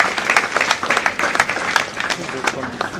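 Meeting audience at an agribusiness stakeholders gathering claps together for a few seconds, dense scattered hand claps at steady moderate loudness with a voice faintly underneath.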